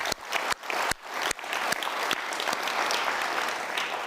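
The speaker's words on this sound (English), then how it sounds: "Let's please give them a round of applause." An audience at the Fortune Global Forum in Guangzhou, China breaks into applause, a dense, even wash of clapping with a few sharp individual claps standing out early, steady for about four seconds.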